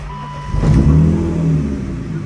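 A BMW E36's engine, on a car being fitted with new front brakes, runs close and loud during brake bleeding, a steady mid-pitched hum that swells slightly as it settles.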